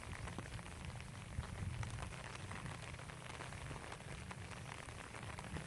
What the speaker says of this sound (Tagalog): Hina lang din ang ulan.